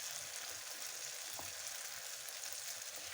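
Eggs with tomatoes and onions sizzle steadily as they are stirred in a small frying pan, a soft continuous crackle with a faint scrape of the spoon partway through.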